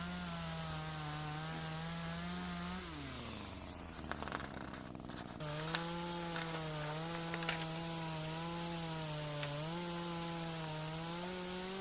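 Electric pole saw cutting garden branches, a steady motor whine that dips as the blade bites into wood, with brief rough sawing noise mid-cut, then the even whine returns.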